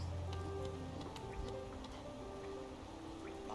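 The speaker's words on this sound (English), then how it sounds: "the rain pours down from cracks of the stone above" Rain pours through cracks in the stone roof of a ruined ancient city in a video game, a steady, dense hiss of falling water that runs throughout beneath soft sustained musical tones.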